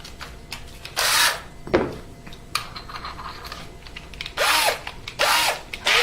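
Power drill boring a hole in guitar body wood with a dull half-inch Forstner bit, heard as several loud bursts of grinding and whirring separated by quieter pauses, with no talking.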